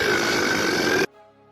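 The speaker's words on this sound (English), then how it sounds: "And one of the blurps is a belch, big belch that sounds like this." Loud belch sound effect played as a stream alert, a single sustained, full-bodied burp lasting about a second that cuts off abruptly, with nothing else over it.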